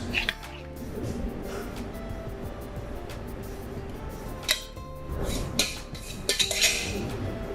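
Eggs and Parmesan stirred together in a bowl for a frittata, with scattered clinks and scrapes of a utensil against the dish, a few sharper knocks toward the end, quiet and close.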